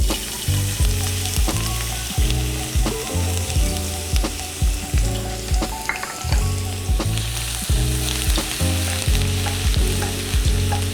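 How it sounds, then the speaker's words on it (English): Garlic fries in hot oil with a loud, close, constant sizzle, broken by regular scraping strokes of a spatula stirring the pan; no talking. "I'm just gonna fry the garlic until it starts to become golden"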